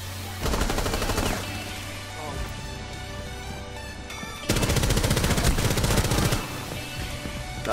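Rainbow Six Siege gunfire, loud sustained automatic bursts in two main stretches with a quieter gap between them, over the game's background and some talking.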